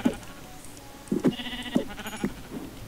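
Minecraft sheep bleat a few times in short, separate calls, fairly quiet over a steady game background hum.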